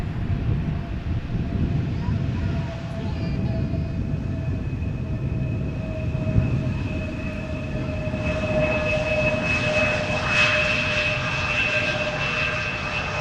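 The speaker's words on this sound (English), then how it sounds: "Another of the many Embraer 175s from KLM." A KLM Embraer 175 jet arriving at Amsterdam Schiphol Airport after a flight from Frankfurt gives a steady, broad engine roar and whine that holds throughout, with a faint voice briefly heard.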